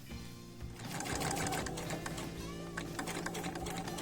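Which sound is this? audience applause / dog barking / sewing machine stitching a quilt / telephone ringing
sewing machine stitching a quilt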